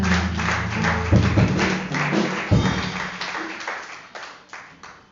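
A church congregation claps and taps along in worship, with uneven thumping hits and a warm crowd wash that gradually fades toward the end.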